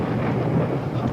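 Thunder rolling during a storm in an old-time radio drama, a dense low rumble filling the whole moment, steady and fairly loud with no talk over it.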